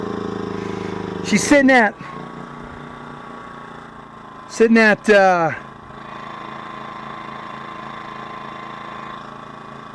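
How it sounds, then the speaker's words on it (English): A portable generator runs steadily while recharging a Zendure SuperBase Pro 2000 power station, giving a low, even engine hum throughout, broken by two short bursts of nearby talking. "Listen to that generator."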